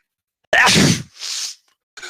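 A single loud, close sneeze, followed by a short breathy exhale and a faint sniff.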